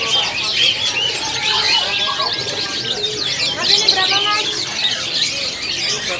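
Caged lovebirds, parakeets and other small birds at a kiosk in the Pramuka bird market chirp and tweet densely and continuously, with some cooing mixed in, lively and close throughout.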